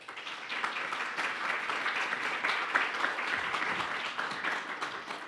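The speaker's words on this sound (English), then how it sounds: "Thanks for the applause." An audience at an interior design symposium applauds after a talk, a full, steady roar of many hands clapping at even loudness for over five seconds.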